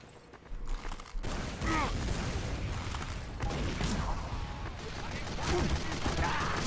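Rapid gunfire in the video game Team Fortress 2, with bursts of shots and impacts over a busy game mix while someone talks and reacts over it.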